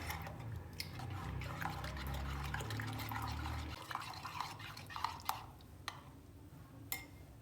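White sauce is stirred with mayonnaise and salt, giving soft wet squelches and a low scraping churn at first, then scattered light clicks and taps of a utensil against the bowl.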